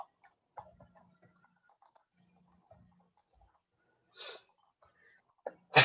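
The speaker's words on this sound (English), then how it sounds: "Oh, sorry, I keep on coughing." A person with allergies coughs indoors, with two short sharp bursts close by separated by near-silence and a few faint small sounds.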